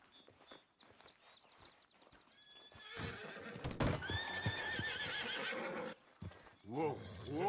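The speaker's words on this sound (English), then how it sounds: "I see myself a good-looking horse." A horse in the Red Dead Redemption 2 video game whinnies loudly with a rising, wavering call, amid clip-clopping hooves and footsteps, closing with a second shorter neigh.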